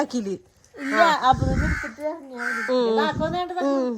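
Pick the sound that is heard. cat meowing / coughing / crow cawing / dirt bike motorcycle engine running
crow cawing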